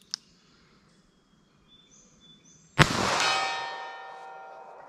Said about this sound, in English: Let me try it in the snub like that. I'll shoot one in the snub.